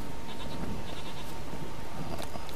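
A goat in The Witcher 3 bleats in a few short, wavering calls, fairly loud and close over a steady ambient outdoor hiss.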